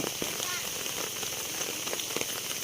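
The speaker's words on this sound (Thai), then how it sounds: "ฝนมันกำลังตกค่ะพี่น้อง" Rain falling and pattering onto surfaces, a steady hiss with scattered drop impacts, fairly faint.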